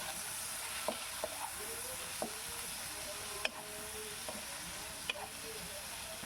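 Tangra fish with salt and turmeric fries quietly in a pan as it is stirred, a low steady sizzle broken by sharp, irregular utensil clicks against the pan.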